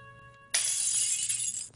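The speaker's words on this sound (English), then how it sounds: "Something I smashed right through the glass roof." Glass roof smashing as something crashes through it, a sudden loud burst of shattering glass that erupts after a quiet hum and sustains for over a second, with a fresh crunch at the end.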